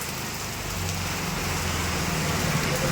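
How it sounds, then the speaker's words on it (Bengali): Steady rain falls with gusting wind during a storm, a dense continuous hiss with a low rumble underneath, close and fairly loud throughout, no voices. "বৃষ্টি পড়ছে সাথে হাওয়া দিচ্ছে"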